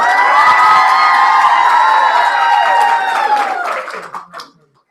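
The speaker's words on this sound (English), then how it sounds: "They need a big round of applause." A loud crowd at a sorority history presentation cheers with high shrieks and whoops over some clapping, a sustained roar that drops away sharply in the final second.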